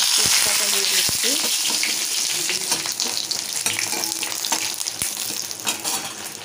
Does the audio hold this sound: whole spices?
yes